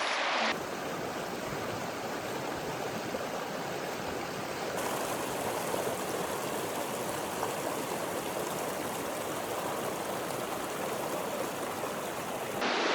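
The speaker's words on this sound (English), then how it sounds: "It's the Virgin River that you walk through." The Virgin River rushes through the steep, high-walled Narrows canyon in Zion, a steady broadband roar of flowing water that stays loud and constant throughout with no voices.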